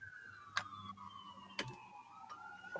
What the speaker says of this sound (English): We've got the sirens going on.